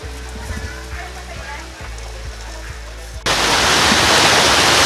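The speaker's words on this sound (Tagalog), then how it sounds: "Medyo malakas yung lakas yung daloy ng tubig." Strong river water rushes in a loud, dense wash that cuts in abruptly partway through and stays steady, preceded by quieter outdoor ambience with low thumps and background voices.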